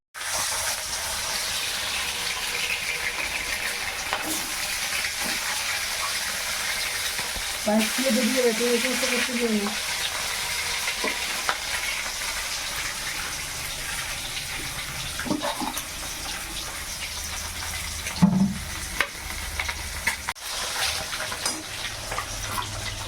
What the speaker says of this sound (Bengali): ডিমগুলো ভাজা হয়ে যেতে তুলে নেবে।